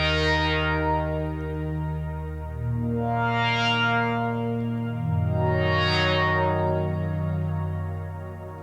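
A synthesizer run through an Erica Synths Nightverb reverb pedal plays sustained, harmonically rich tones that shift pitch in steps, with three slow, shimmering swells that rise and fade inside a long reverb wash.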